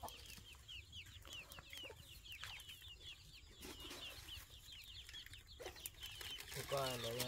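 Chickens cluck steadily throughout, with repeated mid-pitched calls from a nearby farmyard flock, some rustling and a faint voice in the background.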